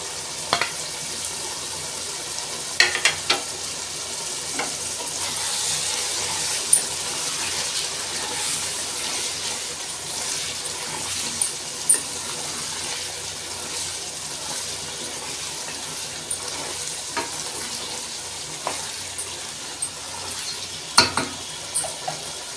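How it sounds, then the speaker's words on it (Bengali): Fried prawns sautéed with young bottle gourd in a pan, a soft steady sizzle and wet bubbling with sparse sharp clicks and scrapes of stirring, close but fairly quiet, no voices. "এর মধ্যে এখন ভেজে রাখা চিংড়ি মাছগুলো দিয়ে আর একটু কষাই নিই"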